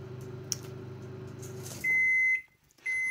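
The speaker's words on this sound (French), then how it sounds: "Et là, on a la fonction micro-ondes qui se met en route." A Samsung MC32K7055 microwave oven runs with a steady low hum, then gives a loud, sustained electronic beep, a short pause, and a second beep, all close by with no talk.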